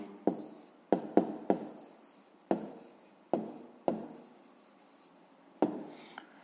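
A pen writes a math solution by hand on paper, producing a series of quiet, separate scratching strokes, about ten over several seconds, close and alone with no speech.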